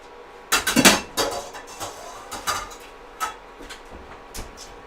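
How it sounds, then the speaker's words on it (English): A pan used to sear duck breast is taken off the burner, giving a loud metallic clatter at first, followed by several lighter clinks and knocks nearby. "we're going to turn this off and just get rid of this pan"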